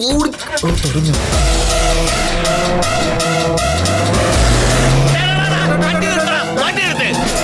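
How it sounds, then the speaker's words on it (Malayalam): A car pulls away hard. Its tires squeal and skid, and the engine note climbs steadily as it accelerates, loud and close, with voices talking over it. "വണ്ടി എടുക്ക്."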